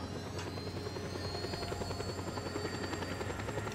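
A helicopter in the video game Just Cause 2 drones steadily with a loud, continuous rotor chop and a high whine, close and unbroken throughout, with no talking over it.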